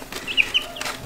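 Brief soft clucks from a blue chicken with bluish legs being held with its wings pinned down on a homestead, a few quick close calls over quiet background.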